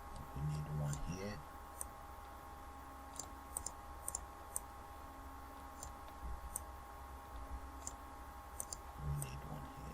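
Computer mouse clicks while a form is built in Visual Basic: sparse, light, close clicks scattered across ten seconds over a steady electrical hum, with a voice speaking at the start and end.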